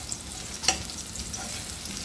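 Garlic sautéing in hot oil for squid adobo, a steady close sizzle with light crackling and one sharp clink of a utensil against the pan.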